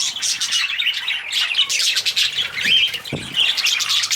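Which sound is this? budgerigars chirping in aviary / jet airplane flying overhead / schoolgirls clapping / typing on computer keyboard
budgerigars chirping in aviary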